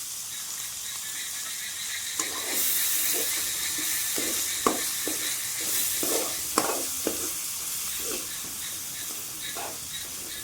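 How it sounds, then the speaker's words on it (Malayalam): Sliced onions frying in a pan for chilli garlic noodles, a steady sizzle and hiss with repeated close scrapes and taps of a spatula stirring through the pan. "നമുക്കിനി ഇതിനകത്തോട്ട് സവാള ഇടാം. അത് നമ്മൾ ജസ്റ്റ് ഒന്ന് റോസ്റ്റ് ചെയ്താൽ മതി"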